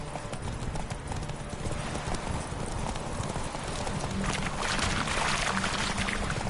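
Roach, Geralt's horse in The Witcher 3, gallops with a rapid, steady clatter of hooves over a dense rushing wash of movement noise that swells louder toward the end, with a voice speaking briefly.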